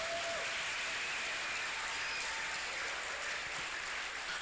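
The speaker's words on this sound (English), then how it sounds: "can we have another round of applause for this scholar?" Steady applause from a crowd at a university inaugural lecture, continuous and fairly even throughout, with no talking over it.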